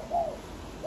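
A spotted dove imported from Malaysia gives a soft, close coo, one short call with the start of another at the end, over faint background hiss.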